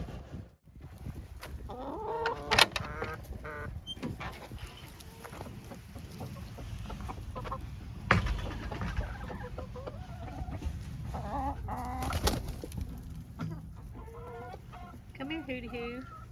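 Backyard chickens clucking and cackling close by in a garden, with repeated bursts of calls over low rustling and scattered thumps, and occasional quiet human sounds in the background.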